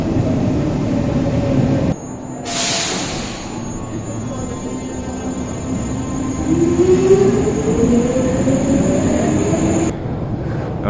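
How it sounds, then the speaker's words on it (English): Riding a Stockholm subway train on a quiet Sunday evening: a steady rumble of wheels and car noise, with a rising whine as the train accelerates and a high, thin squeal. "Riding on the subway."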